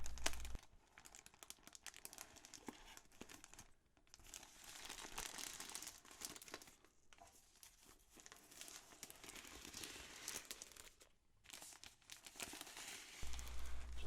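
Packaging being ripped off an IQUNIX ZX-1 water cooling keyboard, heard as soft, close crinkling and tearing that runs continuously with a few brief pauses.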